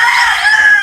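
Chickens on a hillside farm garden, with a rooster crowing loudly and close in one sustained, wavering call and no talk over it.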